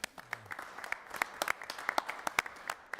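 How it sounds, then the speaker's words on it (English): A small crowd at a city council meeting claps in scattered, uneven applause, individual sharp claps standing out over a thinner wash of hands, moderately near. "That deserves a round of applause."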